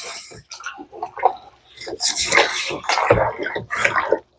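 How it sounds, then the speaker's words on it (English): Water splashes and drips close by in irregular bursts of sloshing and spattering, rising and falling over a few seconds. "Is there water dripping on my feet? Yep. Yeah, I'm splashing water."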